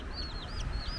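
Wild chickens roam a coffee farm on Oahu, Hawaii, giving a few faint, high chirping calls in quick succession over a soft outdoor background.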